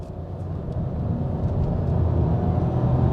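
A 1-litre three-cylinder engine in a 2022 Seat Leon hums and rumbles steadily, slowly building in pitch as it revs up under load in second gear, with no voices.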